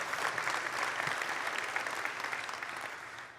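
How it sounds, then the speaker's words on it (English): A large audience claps steadily at a developer conference session on SwiftUI, a dense even wash of applause that slowly tapers off. "you can clap for that"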